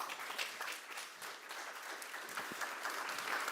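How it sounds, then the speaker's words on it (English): An audience at a digital transformation forum in Milan claps steadily, with many hands making an even, moderately distant wash of applause that continues throughout without a break. "This is the applause from Milan to all of you."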